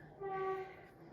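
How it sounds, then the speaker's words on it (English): A small train passing, its horn sounding a steady pair of tones for about half a second, fairly faint and somewhat distant against a quiet background. "There goes the little train."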